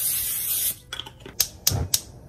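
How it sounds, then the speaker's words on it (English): Extra virgin olive oil cooking spray spritzed into a pan: a long hissing spray, then a few short, sharp bursts close by in a quiet kitchen. "Mine is just extra EVOO, since we're on the Rachel Ray kick."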